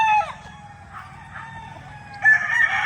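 Rooster crowing on a gamefowl farm in mountain country, a near crow at the start and another rising near the end, over a low steady hum of farm background.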